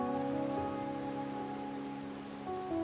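Steady rain falling in the Wuthering Waves game, a continuous even patter heard alone under a soft sustained musical tone.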